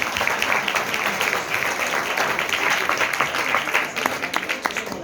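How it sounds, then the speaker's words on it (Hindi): A church hall audience applauds the youth team at a Sunday School prize distribution, a continuous dense round of clapping at steady volume from start to finish. "इनकी भी जोरदार तालियां।"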